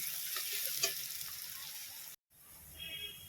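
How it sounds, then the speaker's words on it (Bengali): Onions frying with a little sugar added, a steady close sizzle with light stirring that drops out briefly before resuming more faintly. "সামান্য একটু চিনি দিয়ে নিচ্ছি পেঁয়াজটাকে ভালো করে ভেজে নিচ্ছি"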